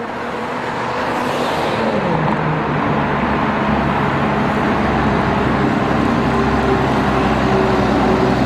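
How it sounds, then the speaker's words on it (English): RF486, a vintage London bus about sixty years old, climbs toward Muswell Hill Broadway with a steady, loud engine drone that builds slightly and holds throughout, close and without talk. "RF486 kicks off the section recreating Route 212 in February 2013 on the final part of the climb to Muswell Hill Broadway."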